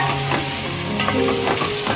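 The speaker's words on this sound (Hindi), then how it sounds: "इसकी अब अच्छे से भुनाई करेंगे 2 मिनट तक।" Potatoes being stirred and fried in a pan for aloo pulao: a steady, loud sizzle with scraping stirring throughout, close up and with no talk.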